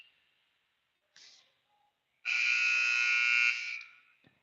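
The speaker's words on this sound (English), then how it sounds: "That was the buzzer blazing right behind us." An electric buzzer in a high school volleyball gym, a short blip followed after a pause by a loud, sustained harsh blast lasting over a second, close by.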